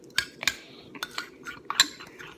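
Slime mixed in a bowl with a utensil, giving several sharp scattered clicks and scrapes against the bowl in an uneven rhythm, close and fairly quiet, with no voices.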